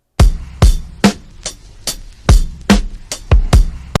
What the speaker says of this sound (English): Originally, this is how fast the drums were.